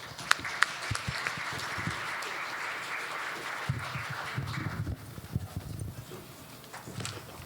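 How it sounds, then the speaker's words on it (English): Dense, steady clapping from a convention crowd fills the space, with a few sharper claps standing out and the applause thinning toward the end. "So let's welcome them with a warm round of applause."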